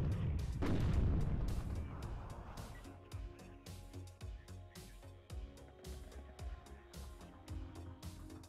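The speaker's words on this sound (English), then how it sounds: "What is with all these mortars?" Mortar fire in the WARNO strategy game lands as a heavy, distant boom followed by a long series of rhythmic, muffled thuds and pops rolling across the battlefield.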